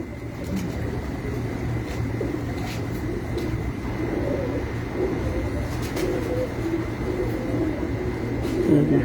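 Pigeons coo on a rooftop in continuous low murmuring rolls, close and steady, with faint traffic and a distant hum underneath throughout.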